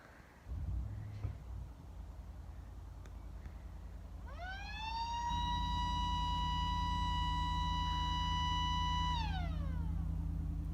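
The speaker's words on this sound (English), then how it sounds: "right here we have a tornado siren, and my brother is going to sound it off" Homemade tornado siren winds up, rising into a steady, sustained wail before sliding back down. It sounds from a distance over a constant low engine-like rumble, with no talking.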